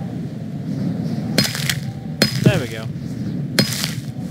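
Hammer striking a wedge to knock out spikes in the House of 1000 Doors hidden-object game, three sharp metallic clinks spaced about a second apart over a low background, with a brief spoken remark between them.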